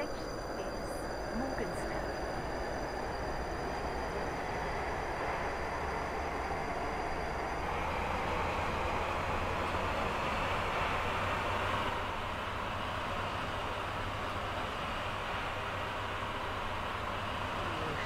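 Train pulling into a terminus station in the Roblox Stepford County Railway game, a steady low rumble of rolling stock with a faint high tone, continuous and even throughout with no talking.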